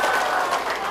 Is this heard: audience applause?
yes